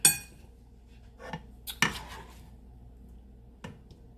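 Keto noodles with shrimp and bacon are served onto plates in a quiet kitchen, with a few sharp clinks and scrapes of a utensil against dishes spaced out over a few seconds.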